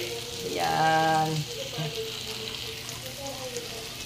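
Century tuna frying in a pan until crispy, a loud steady sizzle that swells early then settles into a softer crackle, with a voice briefly speaking over it.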